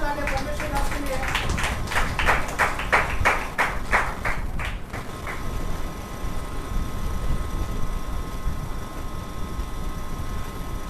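Church congregation at a Thursday healing service claps in a quick, rhythmic burst for about five seconds, then falls away, leaving a steady hum and room noise.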